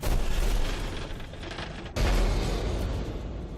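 A collapsing elevator explodes in Alien: Isolation, heard as a loud, sustained rumbling roar with a fresh booming surge partway through, then continued heavy debris noise.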